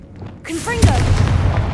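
A Confringo explosive spell goes off in Hogwarts Legacy, a sharp booming blast that lands near and loud after a quiet start, trailing a rumbling tail, with a brief voiced cry just before the hit.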